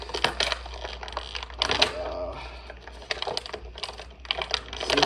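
Plastic restraints are pulled from a Catwoman action figure's packaging in bursts of close crinkling, snapping and clicking, with brief pauses between the tugs and no talking.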